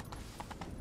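Horse hooves clip-clop in the Witcher 3 video game, with four or five evenly spaced, fairly crisp steps at close range over a steady low background.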